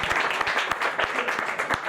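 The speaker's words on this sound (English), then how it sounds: "thunderous round of applause" Audience at a live magic show breaks into loud applause, a dense rapid clatter of many hands clapping throughout, with faint voices underneath.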